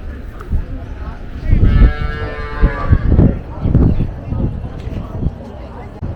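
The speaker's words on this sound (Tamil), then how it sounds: "உள்ள ஒரு நாட்டு மாடு இருக்குது." A cow moos loudly and nearby at the Kundadam cattle market, one drawn-out low call followed by shuffling and thuds from livestock, while someone talks over the scene.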